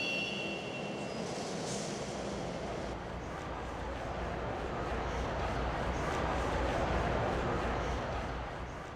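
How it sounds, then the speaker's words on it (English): A train in the video game Shin Megami Tensei III Nocturne gives off a continuous rumbling rail roar with faint high squeal and rattle, fairly loud and steady throughout, with voices faintly in the background. "Please do not rush onto the train. The door is now closing."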